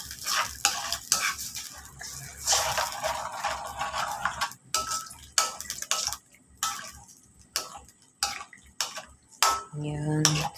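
Fish and sweet potato leaf soup being stirred in a pot, with repeated clinks and scrapes of a utensil against the metal over a soft simmer, close and moderately loud, with brief pauses between strokes.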